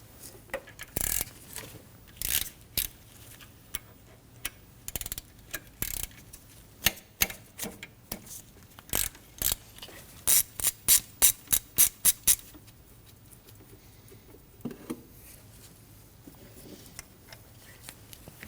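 Ratchet wrench backing out 12mm bracket bolts on a Subaru Baja 2.5L H4 engine: close, sharp clicking in short irregular bursts, speeding into a rapid run of ticks midway, then quieter handling noises.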